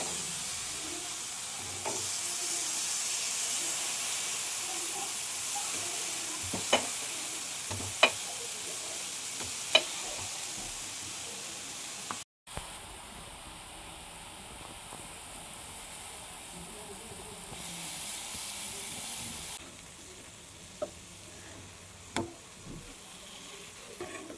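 Pineapple slices frying on a low flame in a pan, a continuous soft sizzle with occasional light clicks and taps of a utensil, and a brief break partway through.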